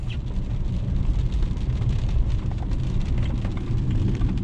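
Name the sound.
rain heard while driving a BMW 328xi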